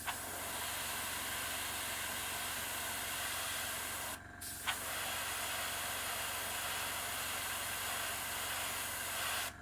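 A paint sprayer hisses steadily and loudly while painting a model, a constant airy spray that cuts out briefly once partway through, then resumes with a small pop and continues unbroken.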